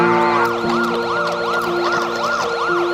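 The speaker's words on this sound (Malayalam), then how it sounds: "പോലീസ് വണ്ടിയല്ലോ മാമ വരുന്നത്" A police car siren wails loudly and close, its rising and falling electronic tone repeating in regular sweeps, with no voices over it.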